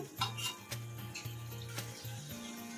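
Potatoes added to chicken curry in a pan and stirred, with soft sizzling and scraping of a spoon against the pan, faint and close with several clattering stirs.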